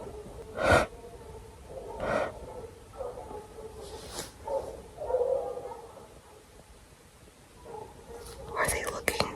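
Dogs bark outside a van at night in sharp, scattered bursts, one early, several spread through the middle and a cluster near the end, mixed with whispering and tense breathing close by.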